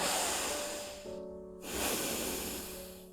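Loud, forceful breaths drawn and pushed through the nose during a yogic breathing demonstration, a hissing rush of air with a brief pause in the middle.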